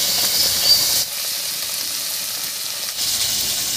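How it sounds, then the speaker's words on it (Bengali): Fresh tangra fish shallow-frying in oil, a steady hissing sizzle close by with a soft steamy texture, dipping briefly in the middle before rising again, no voices. "তো একটু হালকা করেই ভেজে নেব।"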